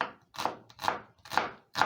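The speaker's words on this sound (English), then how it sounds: "I'm going to start off with chopping an onion." A small onion being chopped on a cutting board gives four crisp, evenly spaced knife strikes, close and moderately loud, with short quiet gaps between them.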